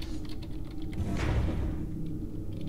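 Clicky computer keyboard typing during play of Legend of Grimrock on a German-layout keyboard, a quick run of light keystrokes heard fairly close over a low background hum.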